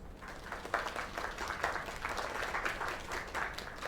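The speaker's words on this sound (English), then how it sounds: "Another round of applause." Crowd applause in the video game Lake, a steady, dense wash of clapping from an audience that holds at an even, moderate level throughout with no talking over it.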